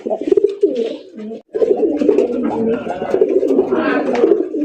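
A male fancy pigeon coos in repeated throaty rolling phrases, close and loud, with a brief pause near the start before the cooing resumes steadily.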